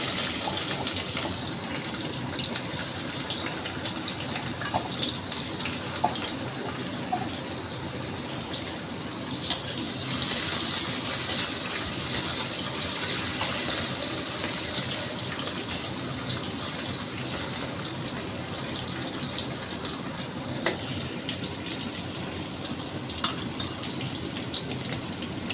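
Bitter gourd pieces fry in hot oil with a steady, continuous hiss and sizzle that carries on for the whole stretch, surging a little louder in the middle, with no talking.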